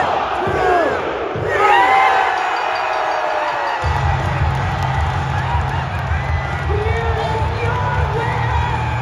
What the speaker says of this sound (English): At WrestleMania 40, the crowd went insane when this happened.